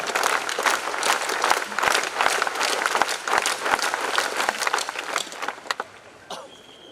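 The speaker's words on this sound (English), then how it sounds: "I think when we announce scout guide clapping, start" Scouts and guides at an international cultural jamboree give a dense burst of crowd clapping. It is loud and steady for several seconds, then thins into scattered claps and fades out.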